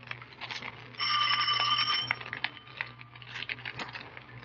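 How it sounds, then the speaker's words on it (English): A doorbell rings once in a radio drama, a sustained bright metallic ringing of about a second, followed by faint knocks and room noise. "Ring the bell."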